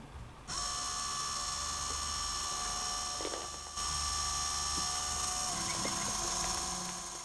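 A small fischertechnik model motor runs steadily with a high-pitched electric whine, holding a constant tone for several seconds with a brief dip midway, close and alone without talk.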